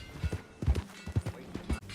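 Horse hooves clip-clop at a steady trotting rhythm in Red Dead Redemption 2, a series of close, fairly soft thuds, with no talk during the clip.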